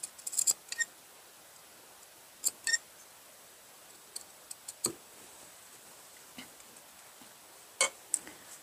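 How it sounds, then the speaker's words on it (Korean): A few crisp, sparse snips of scissors cutting small notches into fabric for a half-zip T-shirt, close by in a quiet room, with pauses between the cuts. "그 다음에 1cm 전에서 딱 그 모서리까지만 가위집을 딱 주시면 됩니다."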